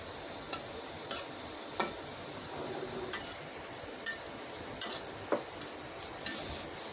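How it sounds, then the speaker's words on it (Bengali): Dried shrimp toast in a pan while a utensil stirs and scrapes, giving repeated sharp clinks and scrapes over a faint sizzle, close and fairly loud. "দিয়ে দিচ্ছি চিংড়ি শুটকি। আমি চিংড়ি শুটকিটাকেও টেলে নেব।"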